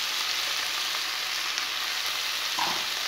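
Onions sizzling in hot oil in a pan as the base for a Bengali fish curry, a steady bright frying hiss with a brief stir near the end, no talking.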